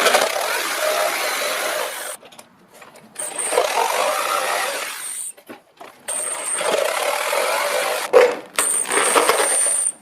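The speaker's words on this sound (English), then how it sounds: "I'll probably just take the same saw, that gap I've already cut, and just meet all the cuts up at the middle." Hand saw cutting through wood, with long bursts of rasping strokes broken by short pauses, loud and close.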